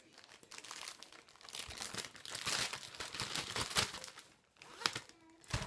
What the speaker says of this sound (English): put your strawberry inside your zipper bag